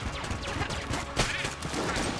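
Dense, chaotic weapon fire in the video game Enter the Gungeon, a continuous barrage of overlapping blasts with a sharper burst partway through, loud and busy throughout.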